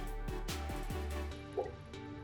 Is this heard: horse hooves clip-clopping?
no